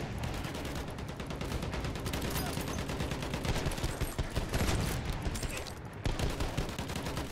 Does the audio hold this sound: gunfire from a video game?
yes